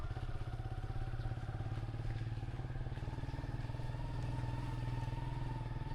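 A motorcycle ridden through the narrow lanes of Lo Manthang in Mustang, its engine droning in a steady close, loud, even hum with a faint clatter throughout, with no talk.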